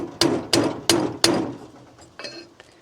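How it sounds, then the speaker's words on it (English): A nylon mallet taps an old fork part down onto a downhill mountain bike fork, four sharp evenly spaced knocks followed by two softer ones, close and clear with no talking. "we'll try a nylon mallet and see if that's going to tap that down"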